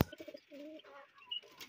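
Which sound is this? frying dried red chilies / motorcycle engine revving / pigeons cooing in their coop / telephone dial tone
pigeons cooing in their coop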